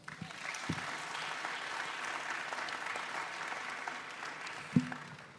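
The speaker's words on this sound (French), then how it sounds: "Je vous demande d'applaudir Laurence Vaky." An audience at a round-table conference in Arras claps steadily for several seconds, a moderate, even wash of applause in a hall with a few sharper knocks.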